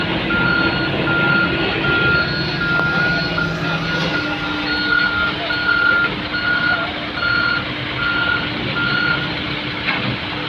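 A trailer truck maneuvers at a ferry loading ramp in Merak, Banten, its reversing alarm beeping in a regular pulsing pattern over a steady diesel engine rumble and background harbor noise.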